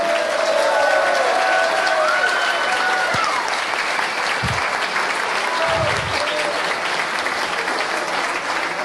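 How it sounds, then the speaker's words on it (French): Sustained applause from an audience of about 1,300 at a political party's 12th-anniversary speech event in London, dense and steady for the whole stretch with a few brief thumps. "que l'on applaudit encore une fois"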